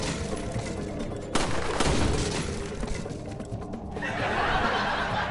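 Gunshots in the video game Resident Evil 4, a sharp loud report followed by a few scattered shots and rumbling game ambience, with a rising hiss toward the end.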